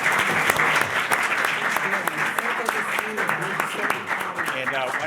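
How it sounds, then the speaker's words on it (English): An audience at a political panel event on voting claps loudly for the panelists, a busy burst of many hands with some cheering mixed in, sustained for the whole stretch. "would you please give a big round of applause for our fantastic panelists?"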